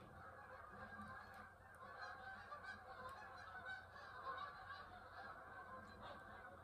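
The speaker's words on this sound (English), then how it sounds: "Oh, can you hear all the geese?" A large flock of geese honking as they fly off, a continuous chorus of overlapping calls heard from a distance, faint but steady throughout.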